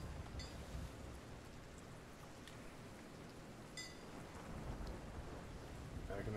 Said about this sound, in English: And the lightning struck right in front of the ship.